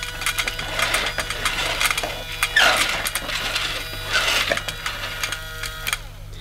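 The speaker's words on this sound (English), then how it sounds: "You can just press the red button at the top and just have the simulated cyclonic action" A Casdon Dyson DC24 toy vacuum cleaner runs its simulated cyclonic action, making a steady, busy mechanical whirr with dense rattling clicks. It sounds close and fairly loud, with no talking.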